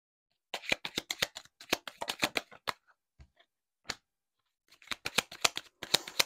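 Oracle cards of the Lenormand enchanted dreams deck are shuffled by hand, close crisp flicking riffles in quick irregular clusters separated by short pauses.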